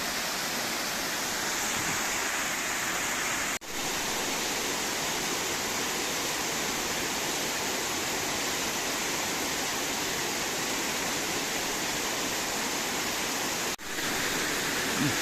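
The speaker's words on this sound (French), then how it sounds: "Une cascade à travers les arbres." Steady, full rushing roar of a waterfall falling through trees in a gorge at Grandval, Cantal, France, loud and unbroken throughout, with no voices.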